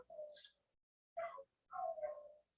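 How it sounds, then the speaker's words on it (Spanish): Dogs indoors making a short series of whimpering yelps and barks at a moderate distance, separated by brief pauses. "están los perros aquí haciendo bulla"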